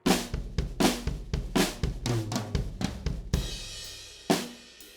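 A drum fill of quick tom and snare hits rolling down the kit, ending on a crash cymbal that washes out with a final accent.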